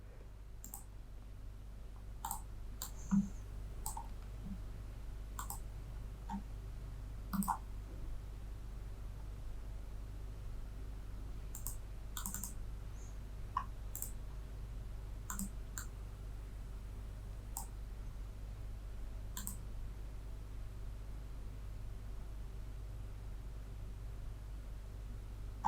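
A computer mouse clicking sparsely at irregular intervals, each click short, crisp and fairly quiet over a low steady room hum.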